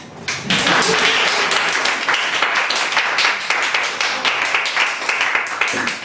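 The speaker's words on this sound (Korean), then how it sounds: "박수 한번 주세요." An audience at a Christian worldview forum in Jinju bursts into applause, loud, dense clapping from many hands that starts abruptly and keeps up evenly for several seconds without voices.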